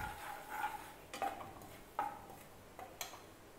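Maida flour being stirred into ghee in a pan with a spoon, several soft scraping strokes at a steady, unhurried pace against a faint background hiss, heard alone and quietly.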